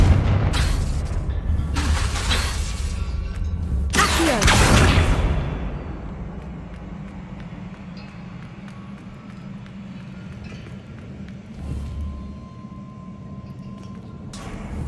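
Hogwarts Legacy Confringo blasting spell: a loud burst near the start, then a heavy booming blast with a rushing whoosh around the four-second mark, fading into a low rumbling game ambience.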